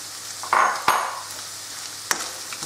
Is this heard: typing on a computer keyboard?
no